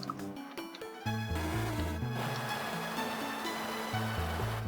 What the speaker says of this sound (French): La petite cascade.